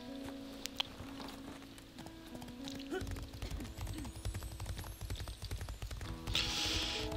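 In a video game, a horse's hooves clip-clop as it is ridden. The steady rhythmic beats start partway through and carry on over ambient game sounds and mechanical clanks.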